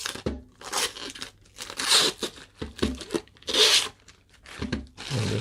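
A protective plastic layer is peeled off a new Heart Sure BP100 blood pressure monitor during unboxing, giving close, repeated bursts of crinkling and tearing plastic with short pauses between them.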